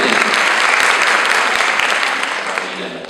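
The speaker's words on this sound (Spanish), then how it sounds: "Más aplausos. Fantástico. Aplaudamos. Más fuerte." Sustained applause from a crowd at a literature course session, steady and loud throughout, easing off slightly toward the end.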